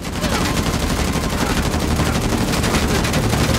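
Heavy sustained gunfire from a huge gun in Uncharted: The Lost Legacy, a loud, dense, continuous burst of rapid shots filling the whole stretch with no pauses.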